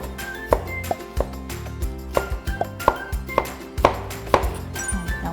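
Knife slicing onion on a cutting board for jjajang, about a dozen sharp chops in an uneven rhythm, close and fairly loud over a low steady musical background.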